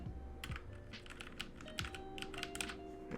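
Keys are pressed on an RGB gaming keyboard, producing a quick irregular series of close, crisp clicks and clacks with short pauses between bursts, alone without talk.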